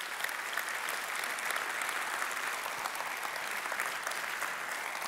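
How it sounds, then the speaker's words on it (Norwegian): An audience at the NOKIOS 2021 conference plenary session claps in sustained applause, a thick, even wash of many hands at moderate distance lasting about five seconds without speech. "Stor applaus."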